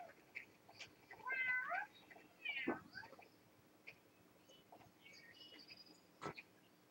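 A cat meows several times in the PlayStation 2 game Bratz Girlz Really Rock, with clear, close game sound effects and short chimes between quiet pauses.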